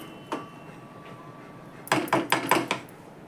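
A raw mango mixture is stirred in a cooking pot for a sweet-sour mango sheet, giving a quick run of four or five close, fairly loud scraping clacks against the pot after a single faint knock and a quiet stretch.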